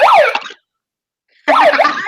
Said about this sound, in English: it has a little siren